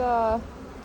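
Honey bees buzzing at close range in an open beehive, a steady droning hum that cuts off partway through the short moment, leaving softer background hum.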